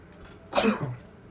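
A single short sneeze bursts out close by, a sharp one-second puff of breath over faint background hiss.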